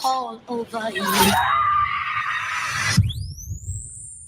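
A woman's long, shrill scream from a horror film trailer, loud and sustained, preceded by short panicked voiced cries and cut off by a sharp sweeping tone.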